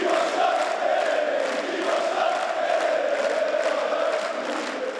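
Fenerbahçe supporters chant in the stands during a club election, a dense, sustained roar of many voices singing together, loud and continuous throughout.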